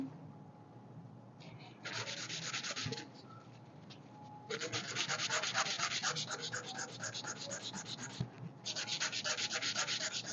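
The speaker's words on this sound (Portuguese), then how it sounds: "primeiro eu vou lixar a ponta" Tip of a fiberglass piece sanded by hand, with sustained raspy scratching strokes in several bursts separated by short quieter pauses, close and fairly steady in rhythm.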